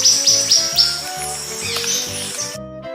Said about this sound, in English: Xenops.